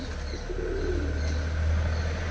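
Giribaz breeder pigeons cooing in a loft, soft low coos and faint chirps over a steady low hum, close by and with no voices.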